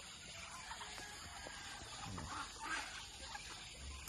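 Backyard poultry, ducks among them, cluck and call softly at a distance over a quiet outdoor background, with scattered faint bird noises and no clear speech.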